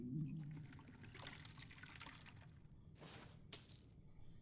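Water pours into a cup in Skyrim with a faint, steady trickling splash, followed by a couple of brief sharp glassy clinks near the end.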